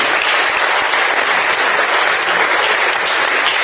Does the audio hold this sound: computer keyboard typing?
no